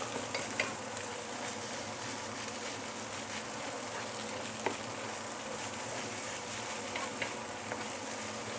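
Prawn fried rice with egg stir-frying in a deep pan, a continuous close sizzle with occasional light scrapes and ticks of the utensil, no voices.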